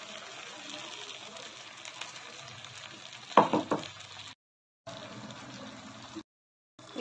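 Poppy seed paste frying in a pan for rohu fish curry, a steady sizzle broken by a loud splattering burst midway, then cutting out into short silent gaps.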